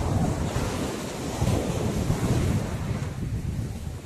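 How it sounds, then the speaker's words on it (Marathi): Waves wash and roll in at Devgali beach on the Konkan coast while wind buffets the microphone, a dense, continuous roar heard close. "हा देवगळी बीच आहे."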